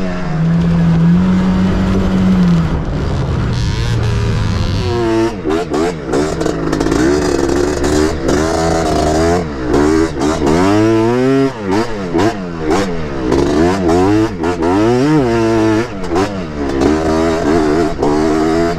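A Yamaha TRI-Z 250 three-wheeler runs on sand dunes, its engine loud and close, droning steadily at first and then revving up and down repeatedly with wavering pitch and bumpy clatter.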